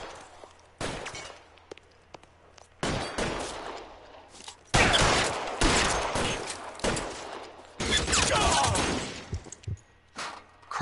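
Gunfire in an LA Noire shootout: bursts of sharp shots and loud clusters across the span, some close and heavy, with quieter gaps and someone briefly talking.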